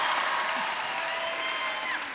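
Audience applause for Amy Poehler at a live conversation event in Los Angeles, a steady dense wash of clapping from a large crowd, even in level throughout.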